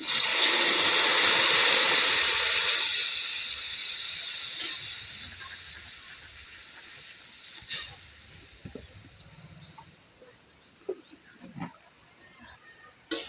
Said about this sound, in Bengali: আমি যেমনভাবে ভেজে নিচ্ছি এবারে দেব খানিকটা জল